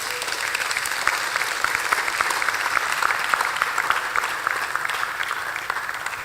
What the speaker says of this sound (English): That hand clap can be better.